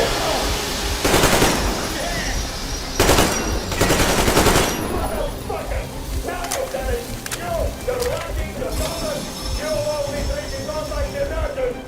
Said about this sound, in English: I'm shooting you personally through your forehead, you damn rebel!